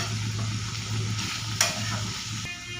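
Cucumber frying in a pan with a steady close sizzle, stirred with a utensil that gives a few scrapes and one sharp clink partway through.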